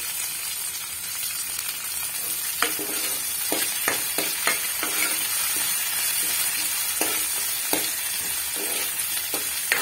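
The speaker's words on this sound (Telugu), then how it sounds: "కరివేపాకు, కొత్తిమీర 2 వేసుకున్నానండి." Curry leaves and coriander dropped into hot tempering oil for a lentil dish sizzle and crackle loudly and continuously, with sharp pops scattered throughout and no voices.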